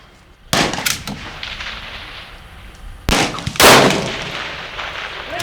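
Two loud, sharp rifle shots crack out about two and a half seconds apart at a precision rifle match, each followed by a brief ringing echo over quiet outdoor background.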